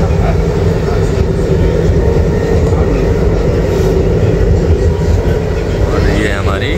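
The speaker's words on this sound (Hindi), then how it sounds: "मेरी अभी तक की सबसे फास्टेस्ट ट्रेन यही रही है RTS" Namo Bharat RRTS rapid rail train running at speed on the Delhi–Meerut line, a loud, steady rushing rumble heard from inside the carriage, with a constant roar and no pauses.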